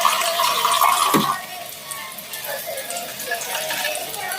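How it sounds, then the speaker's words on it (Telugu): Water pours into a pan of jaggery and sugar syrup flavoured with cardamom, a steady close splashing gush for just over a second that then gives way to quieter kitchen noise. "వాటర్ వేసుకోవాలి."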